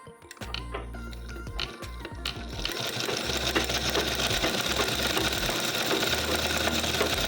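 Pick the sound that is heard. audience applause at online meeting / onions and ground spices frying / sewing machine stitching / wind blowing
sewing machine stitching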